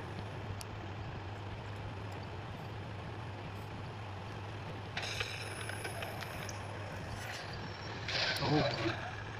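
A heavy truck in a truck simulator game rolls backward with a steady low engine drone, then a burst of hissing air-brake noise near the end and a final loud rush.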